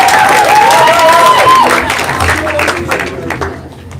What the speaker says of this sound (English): give a round of applause and let's see it!